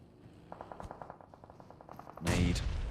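Rapid automatic gunfire in PUBG Mobile during a competitive esports match, a steady train of evenly spaced shots that ends in a much louder, dense blast.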